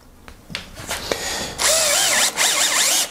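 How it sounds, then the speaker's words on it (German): Cordless power screwdriver driving screws into a thick wooden scaffold plank, a few short clicks and bursts at first, then two loud, close whirring runs with rising and falling motor pitch as the screw sinks in. "Und dann schrauben wir das Ganze fest."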